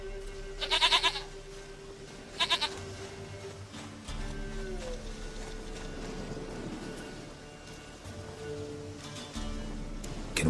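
In The Witcher 3, a goat lets out two loud, close bleats in quick succession near the start, then ambient game sounds carry on with no further cries.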